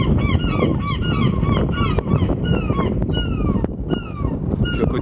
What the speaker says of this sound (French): Vénère les mouettes.